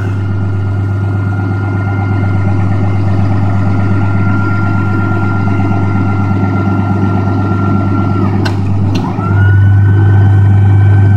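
A Cummins 6.7 diesel engine idles steadily after a cold start, a loud, even low drone with a brief dip and surge near the end.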